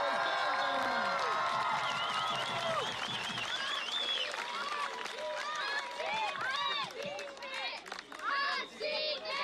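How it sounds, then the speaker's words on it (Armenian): Crowd at an outdoor public rally in Ijevan, Armenia, with continuous applause and cheering that slowly fades, with voices and whistle-like calls rising over it. "եկեք բոլոր տղամարդկանցով ծափահարենք մեր աղջիկներին ու կանանց"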